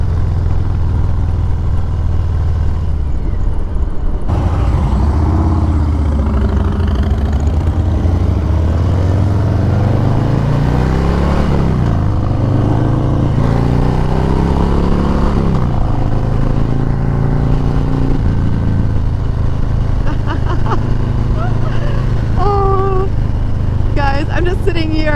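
A 2018 Harley-Davidson Heritage Classic 114 motorcycle rides along with a loud, continuous low engine rumble, rising and falling as the rider shifts and throttles, with steady wind noise throughout.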